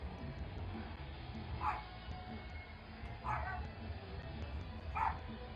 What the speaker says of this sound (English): I hear Diddle in there trying to sing